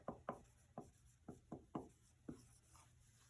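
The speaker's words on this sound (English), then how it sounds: "I'm going to get a red marker, and I'm going to write" Quiet, close strokes of a red marker on paper, about nine short squeaky scratches in an uneven rhythm as a word is written out, alone without talk.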